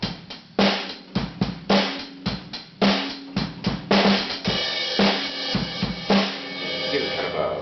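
Drum fill broken up between snare and hi-hat, with sharp rhythmic hits in quick groups followed by a denser run of strokes and ringing cymbal wash, played close and loud with no talking.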